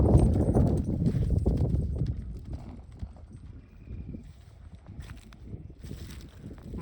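A horse runs outdoors, its hooves beating a fast, steady clip-clop rhythm close by, with a faint rustle of wind behind.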